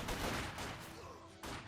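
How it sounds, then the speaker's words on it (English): Dense, rapid gunfire rattles continuously in a Company of Heroes 2 battle against Grenadiers, loud and thick with overlapping shots and a renewed burst at the end. "A lot of heavy fire there against the Grenadiers"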